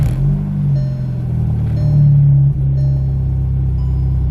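A VW MK6 GTI with upgraded motor mounts starts up and settles into a steady, loud, low engine idle, close by, with a brief rise partway through.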